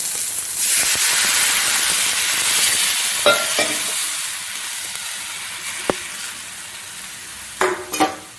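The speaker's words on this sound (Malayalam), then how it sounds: "അടുപ്പ് നന്നായിട്ട് തിളച്ചിട്ടുണ്ട്." A coconut-based curry bubbles and hisses in a pot on a stove before chickpeas go in, a steady close simmer with a few sharp clinks and stirring knocks toward the end.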